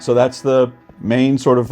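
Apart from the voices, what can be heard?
No everyday noise stands out behind the speech.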